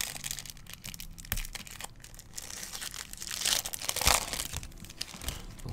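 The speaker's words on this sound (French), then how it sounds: "Et maintenant on va ouvrir le pack de renforcement" Crinkly foil wrapper of a Yu-Gi-Oh booster pack being torn open and crumpled, a run of close, sharp tearing and rustling bursts with a louder rip near the end, no voices.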